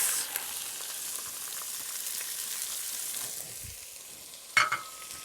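Onions for chicken cacciatore dropped into a hot pan, a soft continuous sizzle with light stirring scrapes, and a brief louder clatter near the end.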